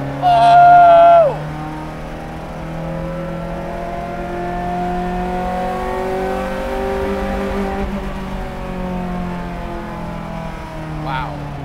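A 1995 Ferrari F355 race car on a track, its engine loud and close with a strong note that climbs, drops and holds as it is driven hard.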